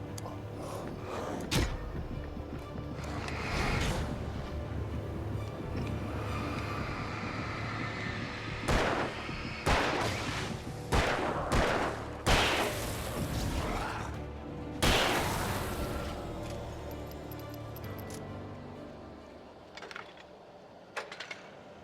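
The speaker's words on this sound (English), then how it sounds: "Hunting rifle." Hunting rifle shots in Alan Wake ring out as a series of sharp, loud cracks at irregular intervals over a low, droning ambient background, with creaking and mechanical noises between the shots.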